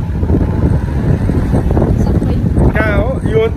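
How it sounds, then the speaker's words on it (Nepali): Strong wind blows outdoors near Aeon Mall in Funabashi, Japan, buffeting the microphone with a steady, loud rumbling roar, and a voice is briefly heard toward the end. "यहाँ कस्तो हावा चलिरहेछ"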